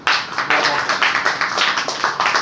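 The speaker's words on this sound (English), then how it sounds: "Clap to everyone." Audience clapping at a debate competition, a loud, close burst of claps in a quick, fairly regular rhythm that persists steadily with no voices over it.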